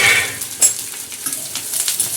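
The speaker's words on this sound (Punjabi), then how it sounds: "ਆਪਾਂ ਪਿਆਜ਼ ਪਾ ਕੇ ਇਹਦੇ ਵਿੱਚ ਵੀ ਅੱਛੀ ਤਰ੍ਹਾਂ ਇਹਨਾਂ ਨੂੰ ਫਰਾਈ ਕਰਕੇ" Sliced bitter gourd and onions sizzle in oil in a pan, close and steady, with brief stirring scrapes and no talking.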